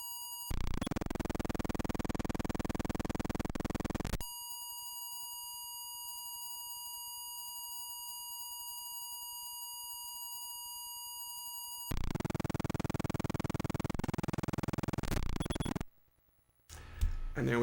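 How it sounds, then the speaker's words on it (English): A long, steady electronic beep from a FujiNet setup holds a single pure tone for several seconds, set between stretches of louder buzzing noise. "Again, a long beep."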